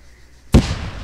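A grenade goes off in the video game Arma 3, one sudden loud blast halfway through that leaves a rumbling, decaying tail after a quiet lead-in.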